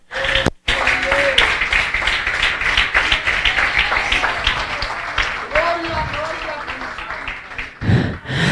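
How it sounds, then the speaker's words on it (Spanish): Church congregation clapping loudly in praise of the Lord during an evangelical service, a sustained burst of dense applause that begins after a brief gap and keeps going until a short dip near the end. "Dale un aplauso grande al Señor."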